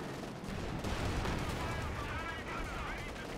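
Explosions and gunfire from an artillery barrage in the World War II strategy game Company of Heroes 2, a dense continuous rumble of blasts under a commentator's voice.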